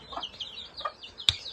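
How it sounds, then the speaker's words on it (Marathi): A few short clucks from a white rooster and hens come in quick succession, close and fairly quiet, with one sharper call near the end. "तिकडे ती बघा एक कोंबडी ती बघा पांढरी कॉक"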